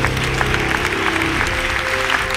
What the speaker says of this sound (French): Un applaudissement.